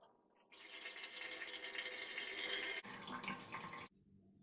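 Water drains through a mesh strainer while making blueberry wine, a steady close trickle and rush that holds for a few seconds, shifts in tone, then stops abruptly.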